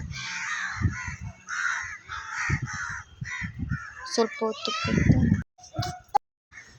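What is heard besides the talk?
birds calling from a nearby tree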